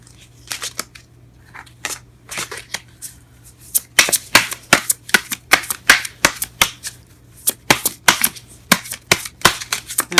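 Tarot cards being handled and shuffled in irregular bursts of crisp, papery riffles and slaps, sparse at first and then quick and rhythmic, close and clear with no talking.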